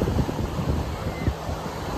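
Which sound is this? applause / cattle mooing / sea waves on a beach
sea waves on a beach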